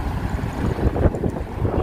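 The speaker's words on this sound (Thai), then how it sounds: "ลมแรงมากเลย" Strong wind buffets the microphone in a town, a loud, continuous low rumble of gusts with no clear pauses.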